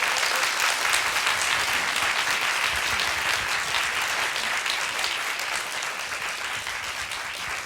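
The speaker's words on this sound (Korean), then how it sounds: "뜨거운 박수 부탁드리겠습니다." An audience claps warmly to welcome a speaker on stage, a dense, loud, continuous roar of many hands that tapers slightly toward the end.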